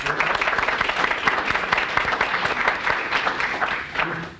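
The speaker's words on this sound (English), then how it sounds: "let's have another big round of applause both on-site and at home at the watch parties for all our 10 presentations" Live audience applause at an innovation showcase event, a dense, steady wash of many hands clapping that holds for several seconds before tapering slightly at the end.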